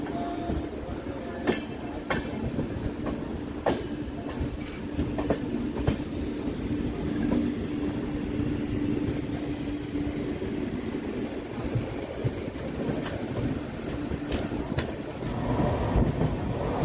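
Howrah-Patna Janshatabdi Express running through Barachak station without stopping, a steady loud rumble of rail cars with sharp clicks from the wheels over joints throughout.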